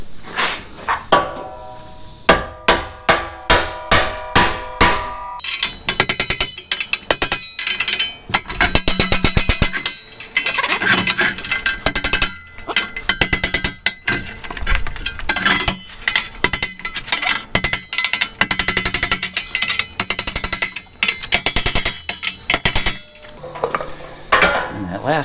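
A metal torch cart under restoration is struck with a hammer in a loud, rapid series of ringing clanks, the blows spaced at first and then tumbling into dense clattering bursts, close and alone.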